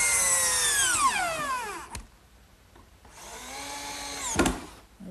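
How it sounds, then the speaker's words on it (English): Power drill driving screws into a wooden bookcase cabinet top assembly, two bursts of motor whine that drop in pitch as each screw seats, close and loud with a quiet pause between. "Now this top assembly gets fastened to the cabinet with screws."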